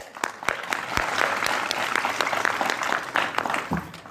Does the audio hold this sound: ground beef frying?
no